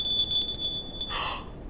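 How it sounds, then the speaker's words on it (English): Bell ringing from behind a waterfall, a high bright repeated ringing over a steady rush of water, which continues briefly after the ringing stops. "it sounded like a bell! And it's coming from behind the waterfall!"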